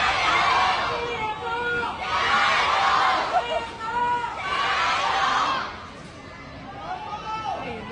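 Chinese spectators at a Paris Olympics table tennis final between Chen Meng and Sun Yingsha chant Sun Yingsha's name in three loud, rhythmic swells of massed voices that fill the arena, then fade to a lower crowd murmur.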